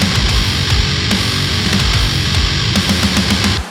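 Driving metal drum groove with open crash cymbals washing over a dense kick and snare pattern, loud and continuous, cutting off abruptly at the end.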